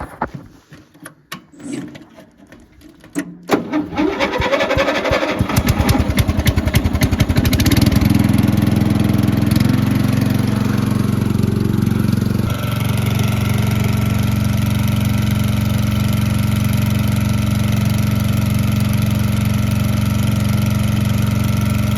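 A 1950s Fordson Major tractor cranks over with sputtering, uneven firing, then catches and settles into a loud, steady diesel-style idle nearby that continues to the end.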